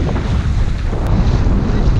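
Strong wind buffets a sailboat traveling the Mississippi River, a steady loud roar of gusts and rushing water continuing throughout with no talk.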